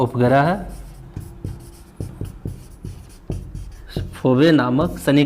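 Handwriting during a spoken lesson on Saturn's moons, heard as a series of short, dry scratches and taps between stretches of a teacher's voice.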